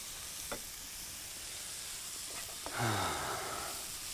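Potatoes boil in a pot on a kitchen stove, giving a quiet, continuous hiss and bubble with a few faint clicks and a brief swell of sizzling near the end.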